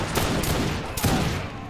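Massed musket and rifle volleys crackle in an Age of Empires 3 battle, several overlapping bursts of gunfire in quick succession at moderate volume, with no talk over them.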